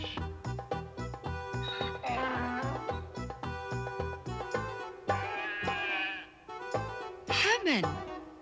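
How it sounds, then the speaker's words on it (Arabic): A lamb bleats briefly over a dense, rhythmic music bed in an Arabic-learning children's program naming farm animals. "حمل."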